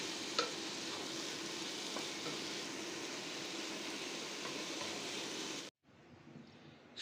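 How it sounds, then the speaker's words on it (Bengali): Cooked leafy greens (shak) are stirred in a hot pan, a steady loud sizzle and frying hiss with faint scraping of the spoon, continuous and close, cutting out briefly near the end. "শাক রান্না অলমোস্ট ডান। একটু নেড়ে চেড়ে নামিয়ে নিব।"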